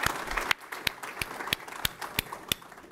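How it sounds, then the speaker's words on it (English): Scattered, sparse hand claps from a small university faculty gathering honoring an award winner, a handful of sharp separate claps at a steady spacing rather than a full ovation. "Let's give Alexander a round of applause,"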